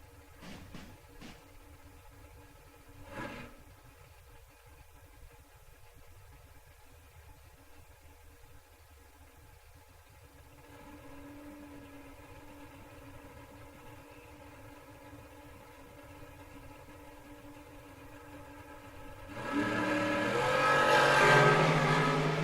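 Drag race cars sit at the start line with a low, steady engine idle, a faint rise in engine noise midway, then a loud burst of engine roar near the end as they launch.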